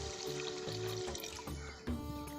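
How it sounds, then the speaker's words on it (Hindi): Water poured from a height into a cooking pot of gosht and chana dal curry, a steady splashing stream with a brief break and restart, close and clear with no talk. "पानी डालेंगे"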